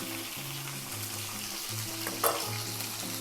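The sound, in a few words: sliced cherry tomatoes sizzling in frying pan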